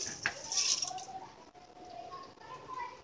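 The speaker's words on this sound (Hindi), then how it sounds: "अब हम इसमें चावल डाल लेंगे" Rice tipped into a pot of sautéed vegetables for veg pulao gives a brief scattering rattle, followed by soft clinks and stirring of a utensil against the pot, close and fairly quiet.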